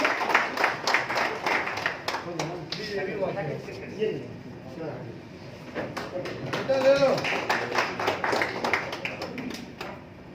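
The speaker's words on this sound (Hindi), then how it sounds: "जोरदार तालियां हो जाए आवाज के लिए।" Clapping from an audience at a social service honours evening in a hall, scattered claps at the start fading under a voice speaking over a microphone, then light clapping returning near the end.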